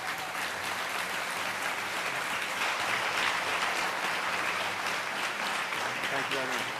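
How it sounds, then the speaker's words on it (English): A studio audience gives a sustained round of applause for a guest, dense steady clapping filling the room throughout, with voices mixed in beneath it. "Let's give him a round of applause."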